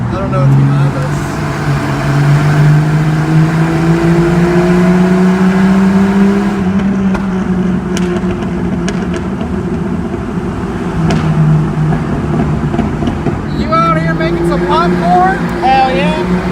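A Jeep with a new aftermarket exhaust drones loudly while driving, its engine note rising and falling steadily, close and continuous, with people talking inside the cabin.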